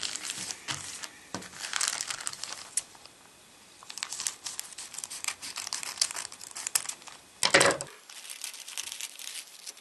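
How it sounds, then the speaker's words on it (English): Plastic shipping packaging for an inexpensive iPod Touch case is cut and torn open, with loud crinkling and crushing bursts in irregular rhythm and brief quiet gaps, close and alone, ending in a sharp tearing rip. "let's cut this thing open"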